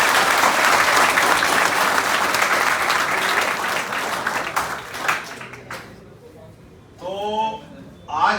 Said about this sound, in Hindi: हमारे जोरदार तालियां सर के लिए।